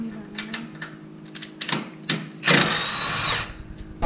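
A power tool rattles in short bursts on the strut bar bolts of a Nissan 350Z being prepared for drifting, close and loud, with one longer whirring run near the end.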